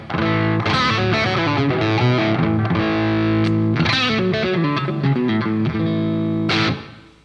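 Electric guitar with light, crunchy low-gain distortion through a Rosen Atlantic Custom 3 cab impulse response plays a series of chords and picked notes, fairly loud and alone, ringing out at the end.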